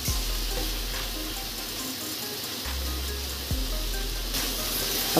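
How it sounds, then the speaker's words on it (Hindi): Mutton chaap pieces with spices dry-roast without oil in a pan, producing a steady close sizzling hiss broken by occasional stirring scrapes and a low hum underneath. "अभी इसे हम भून रहे हैं, बिना ऑयल के भून रहे हैं इसे।"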